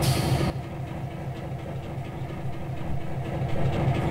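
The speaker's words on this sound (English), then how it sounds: "So there's the sound of Unit 721." Locomotive Unit 721 of the Carrabassett Valley Railroad running in a video game, a steady low diesel rumble with rhythmic pulsing that continues throughout, preceded by a brief brighter burst at the start.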